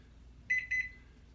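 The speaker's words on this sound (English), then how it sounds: "So I'm gonna set the timer here" Two short bright electronic beeps from a kitchen timer being set in a home kitchen during microwave praline cooking, close and clear over quiet room tone.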